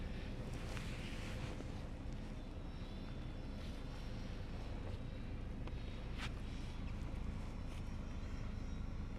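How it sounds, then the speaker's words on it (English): Steady, rushing wind buffets the microphone outdoors during drone flight testing, a constant low roar with no pauses and no voices. "It is pretty windy."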